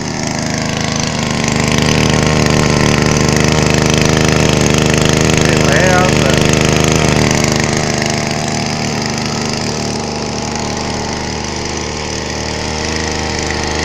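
A whipper snipper motor drives a small water pump built from a fuel tin, running steadily and loud close by with a continuous buzzing engine drone that eases slightly partway through.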